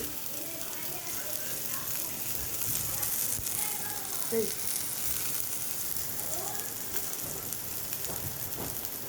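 Garlic frying in a pan while cooking a chicken dish, giving a steady, moderately loud sizzle with scattered crackles throughout.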